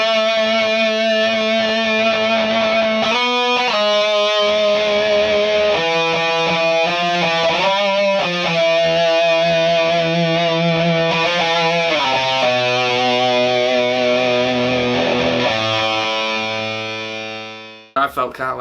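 Distorted electric guitar plays a sustained, bending lead line with a wash of reverb, loud and continuous, ending in a few abrupt cut-off hits.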